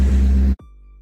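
A Ford GT350 engine running, a loud close low rumble that suddenly cuts off after about half a second, leaving a faint steady hum.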